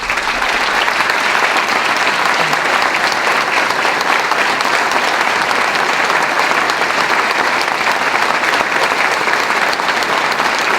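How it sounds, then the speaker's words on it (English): Sustained audience applause in a hall during a mayor's State of the City address, loud and steady throughout without a break. "And we just give them a round of applause."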